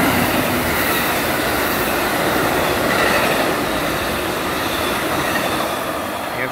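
Amtrak northbound train 58, hauled by SC-44 Charger locomotive 4614 on its New Orleans to Chicago run, passes close by with a loud, steady rolling roar, rail clatter and faint wheel squeal throughout.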